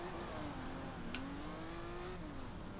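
A video game car engine hums and revs steadily, rising and falling in pitch, faint and continuous with no talking.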